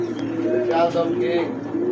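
Kaldom king-size pigeons coo close by in low, rolling phrases across two seconds, with a few higher chirps mixed in and a voice murmuring faintly underneath.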